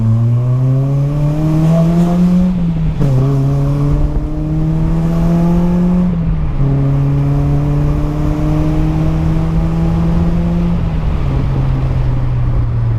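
A Honda Civic EP3 Type R fitted with a Powerflow exhaust revs loudly nearby, its engine note climbing smoothly through several long pulls with brief dips between them, heard alone without talk.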